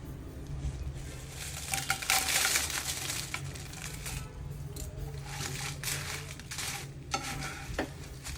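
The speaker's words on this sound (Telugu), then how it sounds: "ఇప్పుడు తీసుకున్న ఎండుమిర్చి వేయించుకోవాలి" Dried red chillies sizzle and crackle as they fry in a pan while being stirred, with scraping and rattling stir sounds over a steady, fairly quiet hiss. The chillies are roasted for a spicy Andhra chutney powder.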